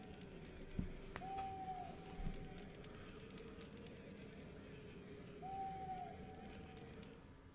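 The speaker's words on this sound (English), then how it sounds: "But the owl cry is fairly piercing." Owl cry from The Legend of Dragoon, heard as two drawn-out hoots a few seconds apart, fairly quiet over steady low game ambience with no talking.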